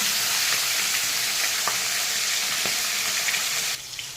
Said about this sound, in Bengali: আমার তেলটা কিন্তু গরম হয়ে গেছে। আমি এখন এখানে দিয়ে দেবো মাছটাকে আমি এখন ভেজে নেব